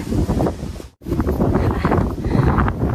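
Strong wind buffets and roars across the microphone in steady gusts, briefly dropping out for an instant before rushing back loud and continuous.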